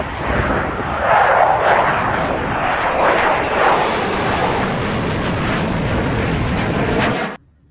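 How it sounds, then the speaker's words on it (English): A fighter jet plane roars past, a loud broad rushing engine sound that swells and holds before cutting off abruptly at the end. "fighter jet plane"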